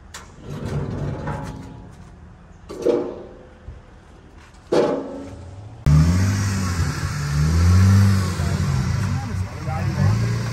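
Talk and shuffling give way to a BMW E30's engine rumbling and revving in low, rising surges as it drives onto a trailer without ramps, close by and loud, continuing to the end.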